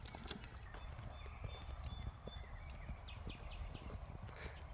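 An English thoroughbred horse walking, its hooves clip-clopping in a steady rhythm at moderate distance, with low rumbling background noise and faint voices.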